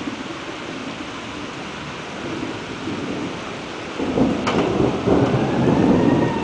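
Thunder rolls during a summer thunderstorm in Salamanca, New York, over steady rain, a low rumble building louder in the last few seconds with a sharp crackle, heard without talk.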